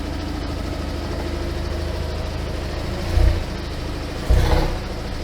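An Invacar, a small three-wheeled invalid carriage, idles as it warms up with the handbrake on and the gearbox in neutral. The engine note is a steady low putter, with two brief louder blips near the end and no speech.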